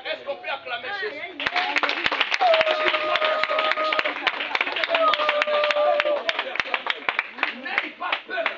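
Open-air crowd at a street-corner preaching gathering in Congo Brazzaville clapping and cheering, dense steady applause for several seconds with voices mixed in.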